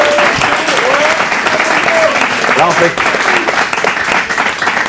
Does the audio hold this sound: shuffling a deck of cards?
no